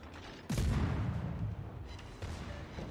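Torpedo launch from a warship in the naval game World of Warships: a sudden heavy whoosh and boom, followed by a rumbling roar that trails off, with a second smaller thump later on.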